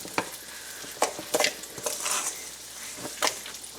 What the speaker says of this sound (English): And now we're just going to mix all this together